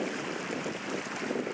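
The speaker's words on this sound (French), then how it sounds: "un petit ruisseau avec un bruit d'eau mais tellement apaisant" A small mountain stream flowing close by, a steady broadband rush of water with no breaks, heard alone without talking.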